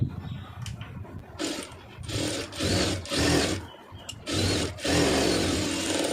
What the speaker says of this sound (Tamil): இதை வந்து ஓட்டிடலாம் துணி விலகாமல் இருக்கிறதுக்கு